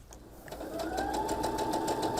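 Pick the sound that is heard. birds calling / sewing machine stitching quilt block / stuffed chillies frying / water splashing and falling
sewing machine stitching quilt block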